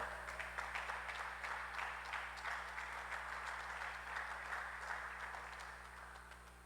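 Applause from a church congregation fills the space steadily for several seconds, a dense even patter of many hands under a constant low hum, gently fading toward the end.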